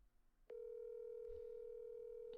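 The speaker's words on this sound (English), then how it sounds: "We're calling up Leandro Ottavio right now." A steady telephone dial tone hums on after a brief click, continuous and even with no voices.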